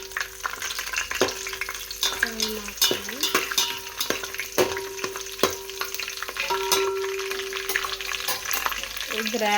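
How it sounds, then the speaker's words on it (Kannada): Green chillies fry in ghee for a chicken biryani, a loud, crackling sizzle with frequent metal clinks and scrapes of a spoon stirring against the pan, close up and continuous. "ಅದಾದಮೇಲೆ ಹಸಿಮೆಣಸು, ಇದನ್ನೆಲ್ಲ ಚೆನ್ನಾಗಿ ಒಂದ್ಸತಿ ಫ್ರೈ ಮಾಡ್ಕೊಳ್ಳಿ"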